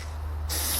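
Devilbiss SRi Pro Lite spray gun with a 0.8 tip laying basecoat on a bicycle frame: a steady airy hiss that suddenly grows louder and brighter halfway through, over a low constant hum, with no talking.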